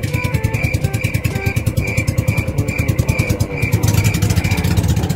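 A nearby motorboat engine on a lagoon runs with a steady, rapid putter and rattle, holding a constant drone without pause and no voices over it.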